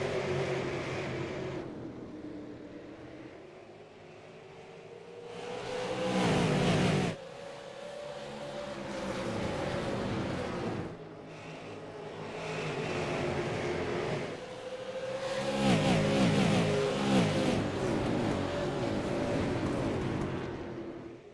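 A pack of Super Late Model race cars accelerates off the start, engines rising in pitch through repeated gear pulls and swelling as they pass, loud and roaring with distant crowd-like wash in between.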